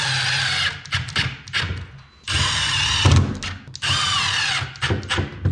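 Power drill driving screws into ceiling timber during water-damaged ceiling repair, heard as three loud, close bursts of whirring with brief pauses between them.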